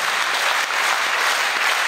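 An audience at a ceremony in Dagestan claps steadily, a dense, even wash of applause that stays loud throughout with no voices above it.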